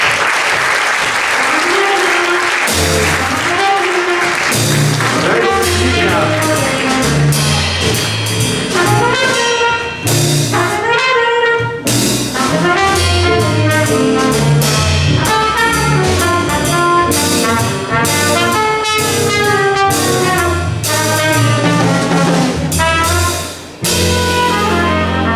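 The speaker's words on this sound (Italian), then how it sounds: "un applauso a Virginia, quindi, per questo premio, complimenti." Sustained audience applause at an awards ceremony for the 2019 Prunola prize, honoring a winner in the unpublished fiction category, with music playing loudly throughout over the clapping.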